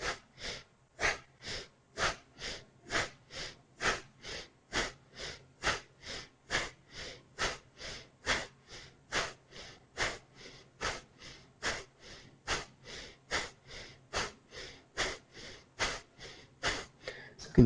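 Rhythmic yoga breathing in a seated session, about thirty short forceful breaths through the nose in a steady pulse, close and fairly loud, with no talking.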